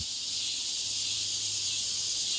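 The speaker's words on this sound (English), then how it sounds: "That's the noise you hear. It's stridulating, which is basically, it is the mating call of the cicada." Cicadas stridulate their mating call as a continuous high, shrill buzzing drone, steady and fairly loud with no other sounds.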